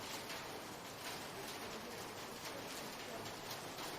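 Steady, dense rain hissing evenly throughout, soft and continuous with no voices.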